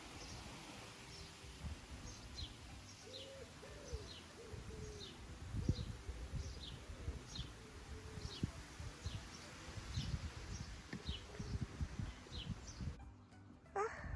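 Bees buzzing around beehives outdoors, a steady soft drone continuing throughout, with faint bird coos and chirps repeating in the background and no one speaking.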